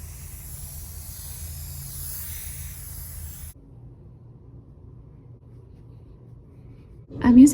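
A can of fabric adhesive sprays onto quilt batting in a steady hiss for about three and a half seconds, then stops, followed by quiet room noise and a brief louder sound at the end.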